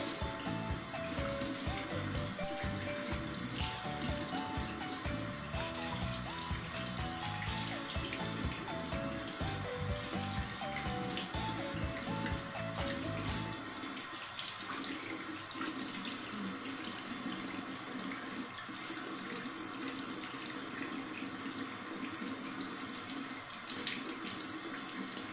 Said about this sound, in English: i-wash ko na lang siya with water para mas mabilis